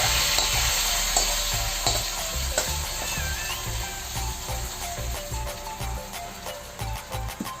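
A hot spice tempering hisses and crackles into a pot of khichdi, a loud, dense sizzle that holds steady with scraping stirs, gradually easing toward the end.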